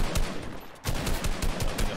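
Rapid gunfire in the video game Fortnite, a dense burst of loud repeated shots that breaks off for a moment and then resumes, close and continuous with no talk.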